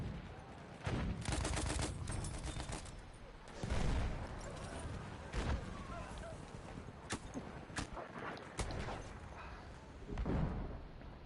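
Gunfire and mortar fire in a multiplayer shooter game: bursts of rapid shots and scattered single cracks and thuds, mid-distance and fairly faint, with people talking throughout.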